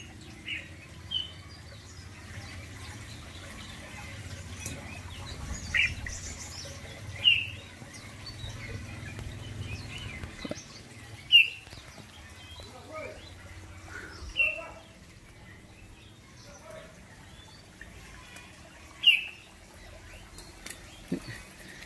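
A pair of pheasants in a cage give short, scattered calls at irregular intervals while moving about, with faint rustling and a soft background hum throughout.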